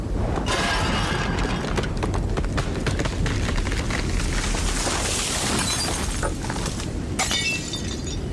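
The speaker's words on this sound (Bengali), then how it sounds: "বাইরে কোথায় যেন মড়মড় শব্দে একটা গাছ ভেঙে পড়ল।" Loud storm sound effect for an audio drama, with a tree cracking, splintering and crashing down amid continuous roaring wind and debris, dense and sustained throughout.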